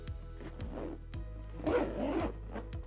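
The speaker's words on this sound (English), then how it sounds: "So if you were worried about this laptop zipper, you know, sometimes it would snag on this material" A laptop bag zipper from a remote equipment kit is pulled in several short, rhythmic rasping strokes, close up. One longer, rougher drag sounds where the zipper snags on the fabric.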